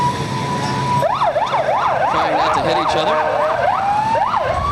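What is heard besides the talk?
police motorcycle sirens in a parade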